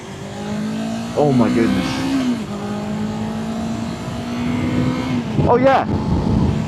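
A Yamaha R3 sport motorcycle revving steadily while riding, with a droning engine note and two sharp rising revs. A rider exclaims excitedly over the sound.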